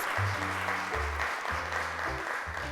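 A studio audience on a children's television show applauds, a steady wash of clapping running continuously beneath a low, pulsing musical backing.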